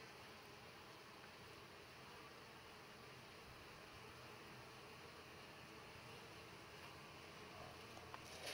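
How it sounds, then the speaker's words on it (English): Bees buzz around a Flow Hive, a faint, steady, continuous hum with no voices. "Lots of bees."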